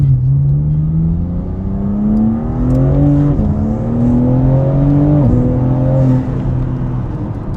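The engine of a BMW M3 Competition (G80) accelerates hard in second gear. Heard from inside the car, the loud engine note climbs steadily in pitch and drops briefly at two points before climbing again, with no talking.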